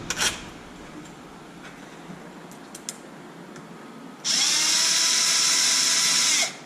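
A small power tool tightens bolts on a Traxxas Wide MAXX RC truck kit: a couple of faint clicks, then a single close, loud, steady high whir lasting about two seconds before cutting off.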